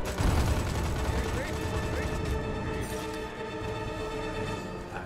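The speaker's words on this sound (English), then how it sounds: "Too close to the explosions" Dense explosions and gunfire boom and crackle loudly in a chaotic Destroy All Humans! 2 battle, heaviest at the start and easing slightly, with voices talking over it.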